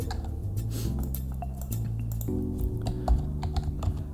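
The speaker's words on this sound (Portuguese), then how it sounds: "Então eu vou digitar aqui no Google Pets RI." Someone types on a computer keyboard, entering a search into Google; a steady run of close clicky keystrokes over a low background hum.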